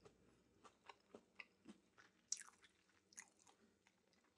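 Crunchy Impossible plant-based chicken nuggets being chewed up close, a quiet run of distinct bites and crunches in a steady rhythm with no talking.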